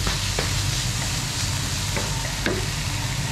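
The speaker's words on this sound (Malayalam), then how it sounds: "അങ്ങനെ ഉള്ളി ഇവന് വാട്ടുകയാണ്." Onions sautéing in a wok, a steady broadband sizzle with a few brief stirring scrapes, close and continuous, with no talking.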